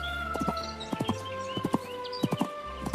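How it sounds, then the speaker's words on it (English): A horse's hooves clip-clop in an uneven series of sharp, close strikes as it moves off, over a steady tonal background hum. "The prince bridled the horse, mounted it, and rode off"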